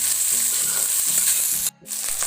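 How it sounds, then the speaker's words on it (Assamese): Leafy greens with salt sizzle and fry in hot oil in a pan, a loud, steady hiss with faint stirring scrapes, briefly cutting out near the end. "এতিয়া ভালদৰে ভাজিব লাগিব।"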